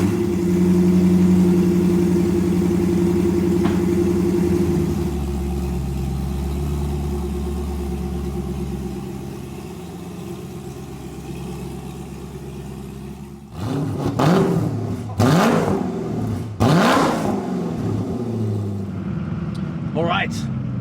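A Koenigsegg CCX supercar idles with a low droning engine, then pulls out with several sharp revving bursts, loud and close, with someone talking over the engine.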